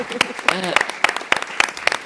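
Studio audience applause on a television talk show, heard as a few distinct, regularly spaced sharp claps rising under a person speaking.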